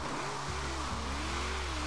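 A '95 SVT Cobra drift build in the Forza Horizon 3 racing game drives on a rainy track, its engine holding a loud, steady drone with small shifts in pitch and no talk over it.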